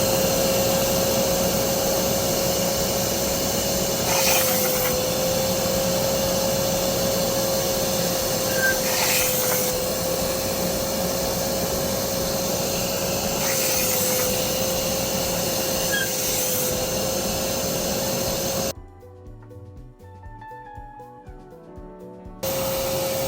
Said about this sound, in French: Et là, je vais commencer l'aspiration.